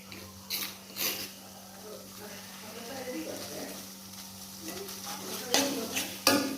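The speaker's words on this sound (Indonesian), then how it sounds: "Terus kita aduk ya sampai berubah warna menjadi kekuningan." Spice paste for egg semur fries in a pan while being stirred, a low sizzle under scraping utensil strokes and clinks against the pan, with someone talking over it.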